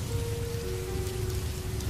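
Steady rain falls at night, a dense, even patter on surfaces with a low background rumble and no voices, set in a village horror cartoon.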